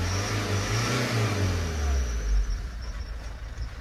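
A Nissan Kubistar 1.5 dCi K9K diesel engine idles steadily after engine and power-steering repair work, with a low, constant rumble close by and a slight swell partway through.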